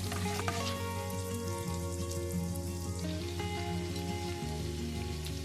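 Garlic sautéing in a pan for an Alfredo pasta sauce gives a steady, close crackling sizzle that runs unbroken through the clip, with no talking over it.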